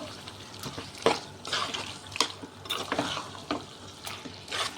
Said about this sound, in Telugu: ఇవన్నీ బాగా కలిసినట్టు మిక్స్ చేసుకొని